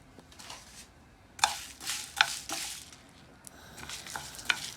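Dried chilies, whole coriander and cumin being dry-roasted and stirred in a hot pan: soft, dry scraping and rustling, with several sharper scrapes and crackles spaced across the stirring, close and fairly quiet.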